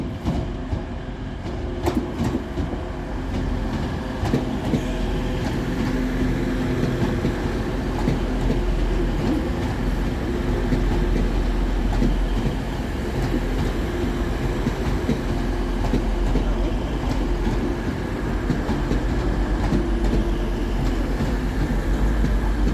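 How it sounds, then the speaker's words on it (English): Two coupled TransPennine Express class 185 units arrive at Selby railway station in the dark, a loud, steady close rumble of wheels and engines with rhythmic rail clatter throughout. "Arriving next out of the darkness is 185121 and 185129 with the delayed 1635 Transpennine Express service from Hull through to Manchester Victoria"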